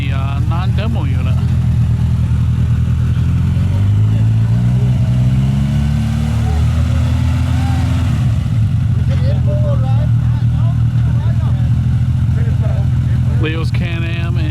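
Polaris Pro R four-seat and two-seat Can-Am side-by-sides race up the Glamis sand dunes, engines droning loudly and rising in pitch as they climb, with voices talking over the roar.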